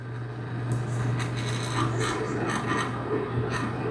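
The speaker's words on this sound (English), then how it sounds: "I'm basically just going to edge stitch it right along that fold" A sewing machine runs steadily, edge stitching green-threaded fabric along a fold during a water toy repair; a continuous motor hum with a rough, rasping whir holds at an even level throughout, with no talking.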